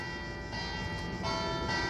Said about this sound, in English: nice bell is some local tourist attraction, so enjoy it